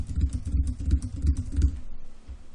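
Rapid typing on a computer keyboard, with a burst of closely spaced clacking keystrokes that trails off into lighter, sparser taps toward the end.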